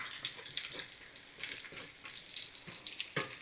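Potatoes frying in a pan while being stirred, quiet sizzling broken by repeated scraping and clattering strokes of a utensil, fairly close and soft overall.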